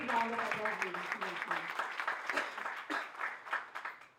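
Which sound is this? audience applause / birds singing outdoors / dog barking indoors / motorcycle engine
audience applause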